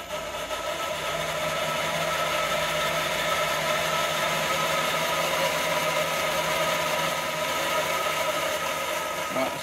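A milling machine with its cutter spinning up to speed before skimming an A-series cylinder head, giving a steady, continuous whirring machine hum with tonal bands, constant and fairly close throughout with no talk.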